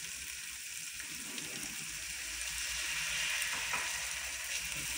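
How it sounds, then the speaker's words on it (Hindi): Half a cup of water is poured into a sizzling chickpea masala with green chillies. It gives a loud, steady hiss and crackle that swells a little as the liquid hits the hot pan, with no talking. "अब हम लोग इसके अंदर 1/2 कप जो है वो पानी लगाएंगे।"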